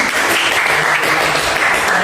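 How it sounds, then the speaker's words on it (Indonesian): Students in a classroom clap together in brisk, loud applause, a dense, steady burst of hand claps lasting a couple of seconds without talk. "Beri tepuk tangan dulu."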